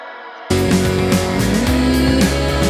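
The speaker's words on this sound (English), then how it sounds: "You can hear that jangly guitar is also in there." A bright, jangly electric guitar rings out with a washy, echoing tail, strummed chords blending into a dense ambient mix after a quiet start.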